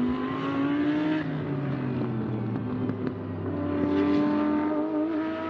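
A Mercedes GT race car rounding turn 15 at Sepang during the 12-hour endurance race, its engine a loud, continuous droning roar whose pitch dips and then climbs again through the corner, with no voices.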